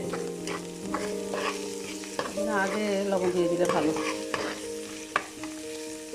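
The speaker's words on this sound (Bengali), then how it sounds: "পেঁয়াজ ভাজা হয়ে গেছে" Onions sizzle steadily in oil in a pan while a utensil scrapes and stirs, with occasional knocks against the metal and a voice speaking over the cooking.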